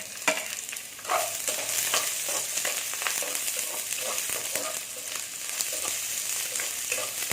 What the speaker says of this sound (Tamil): நெய் சூடாயிருச்சு. வெங்காயம், இஞ்சி, பூண்டு இது 3த்தையுமே இதில் போட்டு வதக்கிடுவோம்.